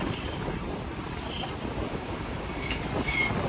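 A local train in Sri Lanka squeals on its wheels as it brakes into a station, a steady metallic rail screech with rumbling carriage noise that swells briefly, close and fairly loud throughout.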